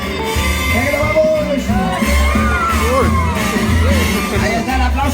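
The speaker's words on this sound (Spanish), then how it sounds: "Ahí está el aplauso a Lolita, que ha venido" An audience whoops, cheers and claps for Lolita, the star singer of a bird show, a continuous loud crowd roar with shouts over music.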